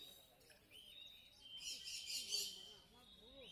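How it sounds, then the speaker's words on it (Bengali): Fischer's lovebirds chirp in high, bright bursts at a crowded bird market in Garia, rising to a dense chatter midway, with someone talking quietly beneath. "এবারে এক ঝাঁক গ্রিন ফিশার দেখতে পাচ্ছেন"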